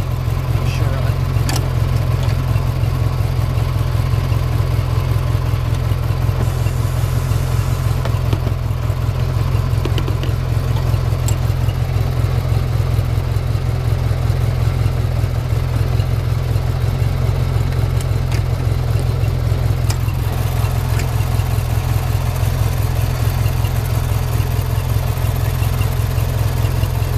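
A car engine runs at a steady, low idle-like rumble throughout, constant and close, with faint background noises and occasional talk over it.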